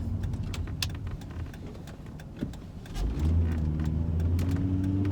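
Volvo V70 estate driving on a country road, a steady engine drone with a gear change and the note settling lower as it pulls away, interior rattles and clicks over the top.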